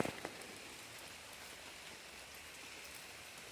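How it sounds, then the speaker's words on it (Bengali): Steady morning rain falls outdoors, a soft continuous hiss of drops on surfaces with a couple of faint nearby taps at the start and no voices. "সকাল থেকে বৃষ্টি শুরু হয়েছে মানে বাইরের কাজ করাতে একটু দেরি হবে।"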